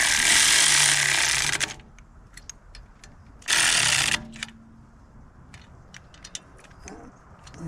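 A ratchet wrench running bolts into the radiator fan of a 1955 Triumph TR2, two bursts of rapid clicking ratchet action up close, followed by scattered small metallic taps and clicks.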